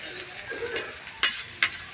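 Kamaro being stirred in a frying pan, a soft sizzle under scraping strokes of a utensil and two sharp clicks near the end, close and fairly quiet with no talking.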